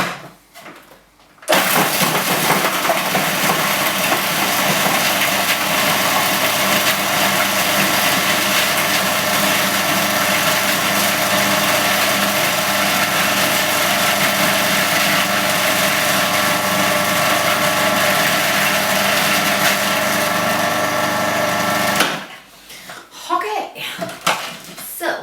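A blender whizzes satay marinade into a paste with a tablespoon of oil added, a loud, steady motor roar running unbroken for about twenty seconds before cutting off.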